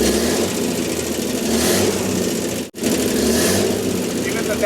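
Rebuilt engine of a 1953 Chevy dump truck, left sitting for years on a ranch, runs steadily at a loud, close idle with a brief cutout partway through.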